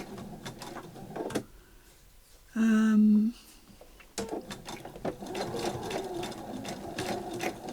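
A vintage sewing machine runs a single steady burst of about a second while top stitching a zip, preceded and followed by quieter handling clatter and rustling close by.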